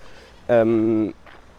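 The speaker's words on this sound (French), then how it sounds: "Il y a des chèvres maintenant, tu vas entendre des chèvres." A single goat bleat rises clearly out of a quiet outdoor background, a wavering, nasal call lasting about half a second, with a fainter murmur after it.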